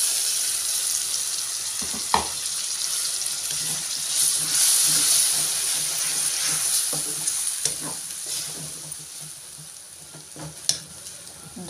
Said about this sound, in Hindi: अब इसमें मैं टमाटर प्यूरी ग्रेन करके रखी हूँ, 2 बड़े वाले टमाटर प्यूरी डाल रही हूँ